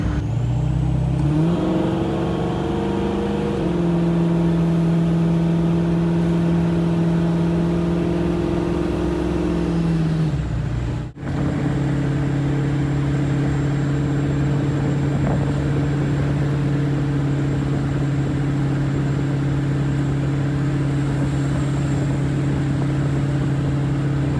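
A supercharged automatic Foxbody Mustang makes a half-throttle pull, its engine drone rising in pitch through the gears, then a sharp break and a steady loud cruise with supercharger whine, close and continuous, no talking.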